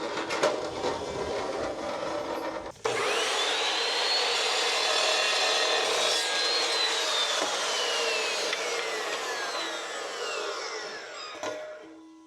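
Square metal tube being cut with a power saw in a carport, a loud continuous grinding whine starting after a short rough scrape, with the pitch slowly bending down over about nine seconds before stopping near the end.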